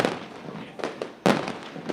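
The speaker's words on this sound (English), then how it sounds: "How about hotter fireworks?" Fireworks at a dirt race track burst in several sharp, loud cracks, close and punchy, with the largest blast near the end and crackling between them.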